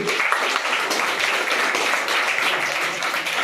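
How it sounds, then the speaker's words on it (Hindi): An audience applauds at a chess event prize ceremony, a steady dense wash of clapping held at even loudness for a few seconds. "एक बार जोरदार ताली उनके लिए"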